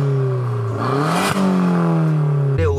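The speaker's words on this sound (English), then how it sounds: "engine start." A Volkswagen Golf GTI Anniversary hatchback engine cranks and catches, then revs briefly before settling into a loud, steady idle close by.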